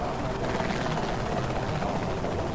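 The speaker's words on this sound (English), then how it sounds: "Is that my chopper?" A helicopter arrives in the video game Saints Row: The Third, its rotor and engine making a loud, dense, continuous roar that holds steady for the whole moment with no speech.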